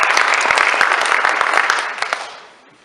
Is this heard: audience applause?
yes